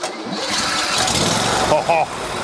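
A remote-controlled mower's engine cranks and catches, settling into a steady, fairly loud running rumble across the clip, with a brief tonal whine near the end.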